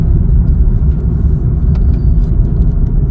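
Chevrolet Cruze LT driving in fourth gear on a local street, heard from inside as a loud, steady low engine and road rumble with no notable revving and no talk.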